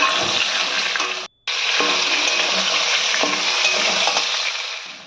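Eggplant pieces fry in a pan with a loud, steady hiss that cuts out for a moment and then resumes, with occasional scraping from stirring.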